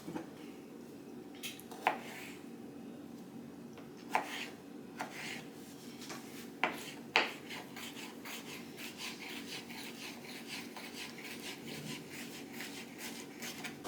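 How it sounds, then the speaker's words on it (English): Knife chopping pickles on a board, scattered sharp taps and scraping strokes, quiet and close, irregular rhythm with a low background hum. "I'm just gonna chop up some of these pickles"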